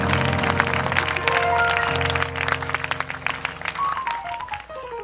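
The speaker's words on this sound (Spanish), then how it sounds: "Denle un aplauso fuerte a Jesús por eso." A church congregation claps for Jesus during a service, a spread of hand claps running under sustained music, loud at first and then thinning toward the end.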